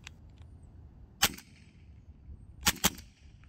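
Evanix Viper .25 caliber semi-auto PCP air pistol firing: a single sharp crack, then a quick double tap of two close shots about two seconds later, loud and near in a quiet setting.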